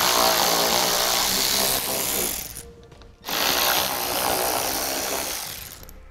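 Power tool whirring steadily as it backs out 10 mm bolts holding the underbody panel of a 2015 Toyota Sienna, loud and close, with a brief pause midway before running again.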